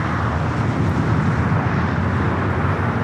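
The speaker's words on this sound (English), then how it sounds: "let's not miss All Nippon Airways, the Star Alliance livery about to land on 24 right" An All Nippon Airways Boeing 787-9 Dreamliner in Star Alliance livery lands on runway 24 right at LAX, heard as a loud steady broadband jet roar with a deep low rumble, unbroken throughout.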